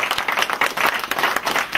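A crowd at a congress in The Hague applauding steadily, with many hands clapping in a dense, continuous patter at moderate distance.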